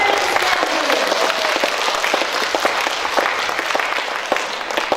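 Kindergarten audience at a children's literary-music contest claps loudly and steadily, a dense, sustained round of applause filling the room from start to finish.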